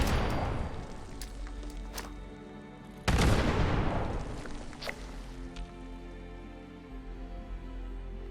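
Gunfire from shooting Scorched enemies in Fallout 76, with several sharp shots spread over the clip and a louder burst partway through, each followed by a decaying rumble under a steady game ambience.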